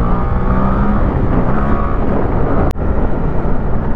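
Suzuki GSX-8R motorcycle engine revving loudly and steadily up close, with a dense roaring drone that dips sharply for a moment near the end before resuming, no voices.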